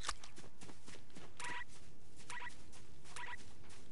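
A chicken in the video game Fortnite gives three short clucks, spaced about a second apart, over a steady background of game noise.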